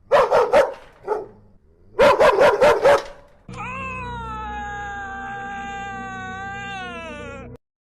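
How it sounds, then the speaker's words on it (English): A dog barks in quick bursts, pauses, then barks again, followed by a long sustained electronic-sounding yowl or whine until it stops. "Stupid dog!"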